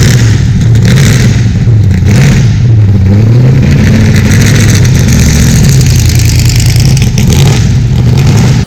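An unmuffled 1966 Corvette 427 vintage racecar engine roars very loud and close, its low throaty note climbing and falling through repeated revs over a rough, uneven idle.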